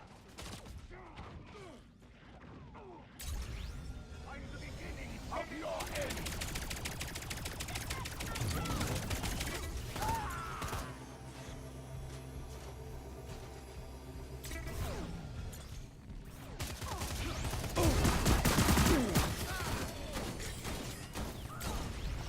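Gunfire in the shooter video game Lawbreakers, bursts of rapid shots mixed with mechanical clanks and creaks, intensifying toward the end amid loud, busy action.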